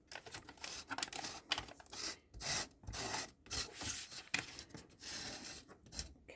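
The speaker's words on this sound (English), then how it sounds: "Just gonna try and make sure we rub some of that glue around." Glue is rubbed around the inside of a shabby-style paper craft project, making close, scratchy rubbing and scraping strokes in uneven bursts with short pauses between them.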